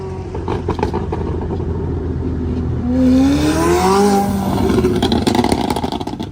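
A Mercedes CLK at Monterey Car Week revs hard as it passes close by, its engine note climbing loudly and then sweeping away, with other traffic rumbling underneath.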